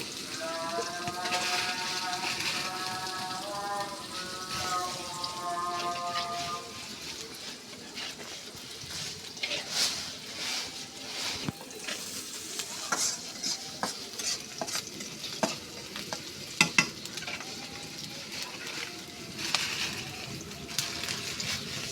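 Chopped onion, garlic and green chili frying in a pan, a steady close sizzle with frequent stirring scrapes and clinks of a utensil against the pan throughout; a faint tonal hum sounds early on.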